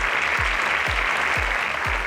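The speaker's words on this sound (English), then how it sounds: "Please give her a round of applause." A crowd claps loudly and continuously, dense applause filling the room with a steady thumping beat underneath.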